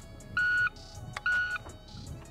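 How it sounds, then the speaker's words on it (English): A shot timer sounds two clear electronic test beeps at a shooting qualification course, each about a third of a second long with a short gap between them, over quiet background noise. "Okay, test beep."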